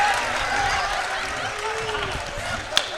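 A crowd applauds at a Jashn-e-Poetry stage event, a broad, continuous patter of clapping with a voice speaking over it and one sharp clap standing out near the end.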